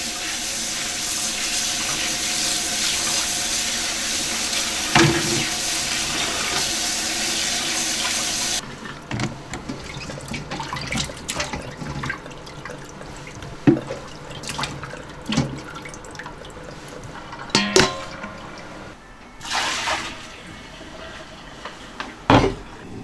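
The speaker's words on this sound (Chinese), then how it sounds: "把驴排再冲洗下哈" Tap water runs steadily while donkey ribs are rinsed at a kitchen sink. The flow stops partway through, followed by scattered clattering and splashing.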